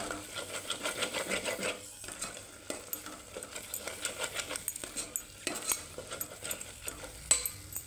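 A spoon scrapes and stirs through drumstick pod curry in a pan as red chilli powder and garam masala are mixed in, with soft irregular clinks and a faint sizzle throughout.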